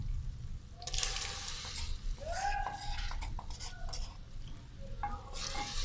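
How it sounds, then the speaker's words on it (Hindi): Chicken fries in a pot with a freshly added ground paste of garlic, ginger and onion, a soft sizzle under repeated scraping stirs and clinks of a utensil against the pot. "हमारा चिकन थोड़ा सा फ्राई हो चुका है, तो अब हम इसमें डाल देते हैं जो हमने पेस्ट बनाया था लहसुन, अदरक और प्याज का"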